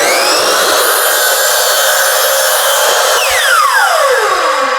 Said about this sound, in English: every time when we're cutting on the miter box, we have this hand down here holding our piece